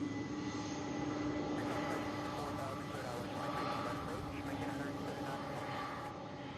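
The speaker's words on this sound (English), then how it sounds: "Beautiful landing there by that pilot there. Nice buttery landing." Airplane landing at Louisville's SDF airport, a faint distant engine roar rising and fading under someone talking.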